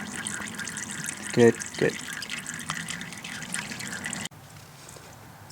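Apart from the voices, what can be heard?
motor oil draining from Suzuki GSX-R 600 motorcycle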